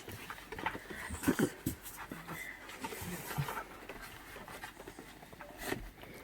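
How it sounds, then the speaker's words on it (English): A puppy pants in quick, close breaths with soft whimpers mixed in, in a lively indoor room with faint voices and light movement in the background. "Look, it's a puppy."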